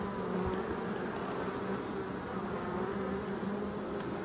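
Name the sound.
honey bees buzzing at hive defending against hornets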